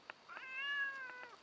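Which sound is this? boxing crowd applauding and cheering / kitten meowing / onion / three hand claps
kitten meowing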